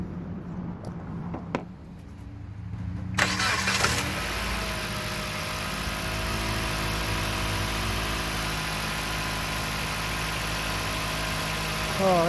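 A Dodge car engine with a leaking cooling system cranks and catches, then settles into a steady, rumbling idle that continues evenly for several seconds.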